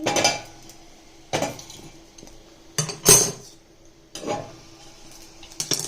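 A metal lid lifting off a pot of cooked gunda in a home kitchen, with several sharp clinks and clatters of metal on metal spaced across the moment, close and fairly loud.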